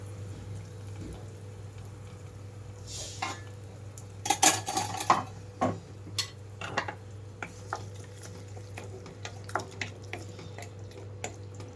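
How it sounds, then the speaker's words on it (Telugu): A spoon clinks and scrapes against a metal pan in scattered taps while tempering is stirred into a Malabar spinach curry, over a steady low kitchen hum. "మొత్తం తాలింపు అంతా ఇందులో వేసి కలిపేస్తున్నాను"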